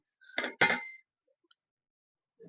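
Two quick metal clanks of a lid being set over a pan of chibhda sabzi cooking on a home gas stove, close and fairly loud, then quiet with a faint tap and stirring at the end.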